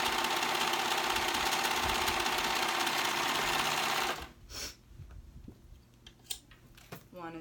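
Sewing machine stitching around the edge of a bell flounce sleeve, a loud continuous fast whir for about four seconds, then stopping into quieter handling clicks.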